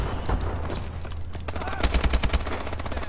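A fully automatic gun firing in Call of Duty: Advanced Warfare, a loud continuous rattling burst that runs through the clip and grows more rapid and punchy toward the end.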